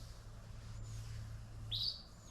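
A forest robin gives a single short, bright whistled call near the end, close and clear over a low background hum.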